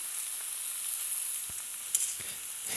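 Food cooking gently on a Lacanche range cooker, a soft, even sizzle with a few faint clicks and one brief crackle, no voices.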